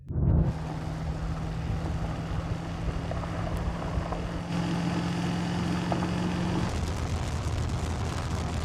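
A tuned Dodge Viper engine accelerating hard in a drag race against a Ford Mustang, a loud, close, sustained droning roar with a steady low tone that runs throughout and shifts slightly partway through, with no talking.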